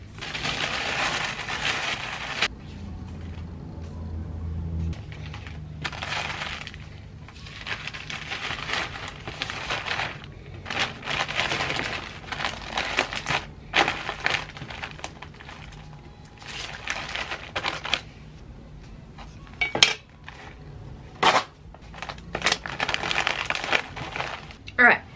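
Tissue paper crinkles and rustles in bursts while a crochet order is being wrapped, close and fairly loud, pausing between handlings with soft taps and handling noises, and a voice talks now and then.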